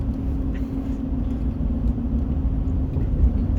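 A car drives through a small Alabama town, its steady low engine and road rumble holding at a constant level from start to end with no other clear sounds.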